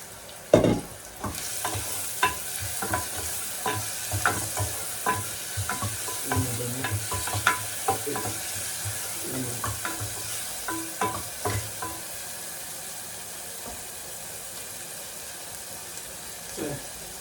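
A spoon stirs tomato in a hot cooking pan, giving repeated clattering scrapes and knocks over a soft sizzle, close and fairly loud at first, then quieter, fading to a faint simmer.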